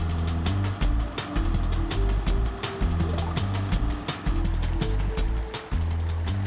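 An emergency water pump runs at a dugout, pulling water from a source: a loud, steady mechanical engine drone with rhythmic pulsing and splashing water, continuous and close throughout without any talk.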